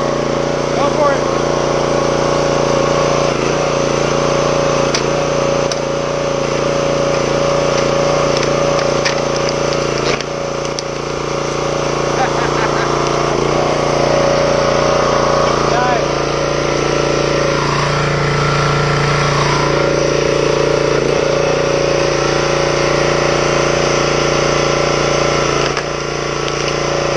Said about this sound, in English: This log splitter is a lot of fun.